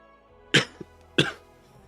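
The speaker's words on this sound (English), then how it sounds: "now I can't stop coughing" Two sharp coughs from one person, close and loud, about half a second apart with a tiny throat catch between them, then quiet.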